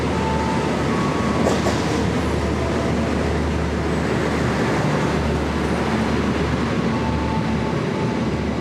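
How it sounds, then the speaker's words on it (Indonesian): The Argo Semeru executive-class passenger train in Indonesia rumbles steadily past, a continuous loud roar of wheels and carriages with faint rail squeals, sustained for the whole stretch. "Kereta api Argo Semeru Surabaya Gubeng Gambir."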